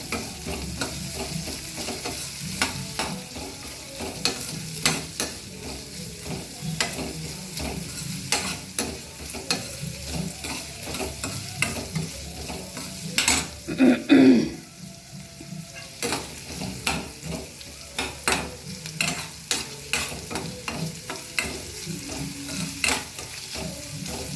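Onions and other ingredients frying and being stirred in a pan for upma, a steady sizzle broken by repeated scraping strokes of the spoon, close and fairly loud, with a brief louder clatter midway and no talking.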